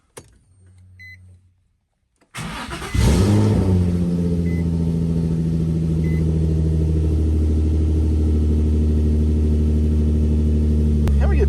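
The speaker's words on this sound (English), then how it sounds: "we're gonna take this little shit box around the block" A Nissan Z car that hasn't been driven in a while, fitted with a Mishimoto shift knob, starts up with a short cranking burst, then settles into a loud, steady engine drone that holds close and continuous until it cuts off abruptly near the end.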